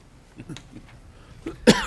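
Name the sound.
coughing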